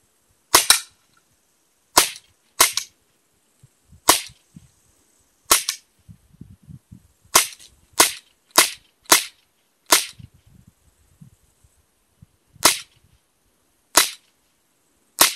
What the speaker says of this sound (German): Und dann kann man eben so wie beim Original mit Anschlagschaft schießen.